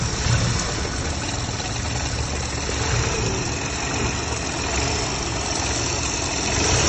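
A BMW F44 engine idles with vibration from worn engine mounts, giving a loud, steady, rumbling drone with rough texture and no voices.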